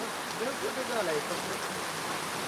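Heavy cloudburst-like rain pours down at Pirachi Kuroli, a dense, continuous hiss of water close by with a brief voice underneath.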